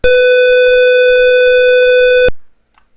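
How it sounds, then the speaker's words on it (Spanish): A buzzer in a circuit simulation sounds as a steady, loud electronic tone for just over two seconds, then cuts off abruptly into silence. "se escuche el buzzer"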